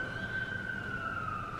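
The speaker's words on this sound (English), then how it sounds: "sorry, the sirens" A steady siren tone wails at a distance, holding a long sustained pitch that slowly slides downward, with low rumbling background noise beneath.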